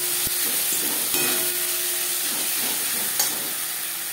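Masala of onion and tomato fries in oil in a pan, giving a steady, moderate sizzle and hiss with a few faint clicks of a spoon against the pan, without any talk.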